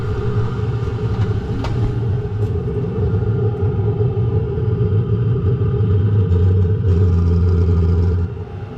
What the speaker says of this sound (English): The heater's making some funny noises again.